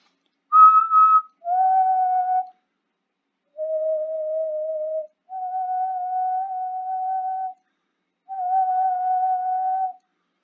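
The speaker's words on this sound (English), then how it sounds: "if I try to whistle at a 700 hertz frequency" A person whistles a steady tone of about 700 hertz in five separate held notes with short gaps between them, the first slightly higher and brief, clean and close with nothing else heard.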